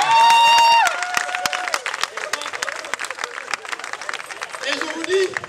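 A comedy show audience breaks into steady applause and some cheering, which rises right after a voice on a microphone and carries on as a dense patter of clapping.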